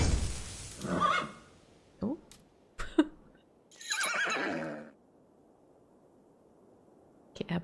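Horse neighs in Assassin's Creed Valhalla, a whinny near one second and another around four seconds, mid-loud between brief clicks and a short spoken interjection.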